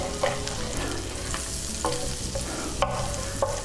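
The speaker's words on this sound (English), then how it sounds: "I took 3 tablespoons of butter and I'm melting it" Three tablespoons of butter melt and bubble in a frying pan set to 350 degrees, giving a dense close sizzle with occasional spatula scrapes and taps, loud and steady with no voices.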